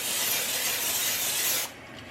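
Cooking oil sprays onto frozen broccoli in one loud, steady hiss for about a second and a half, then cuts off abruptly, with no talk.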